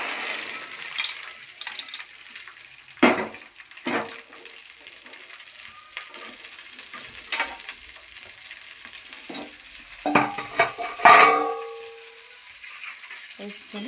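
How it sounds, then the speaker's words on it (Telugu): Ingredients frying in hot oil in a pan, a steady sizzle broken by several louder clatters and stirring scrapes, close and alone without talk. "కొంచెం మంచిగా ఫ్రై అవుతుంది"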